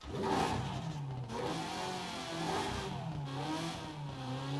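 A Viper engine swapped into an Aston Martin in Forza Horizon 5 revs steadily with a rising and falling mid-pitched drone and a harmonic whine, continuous and loud with no talking.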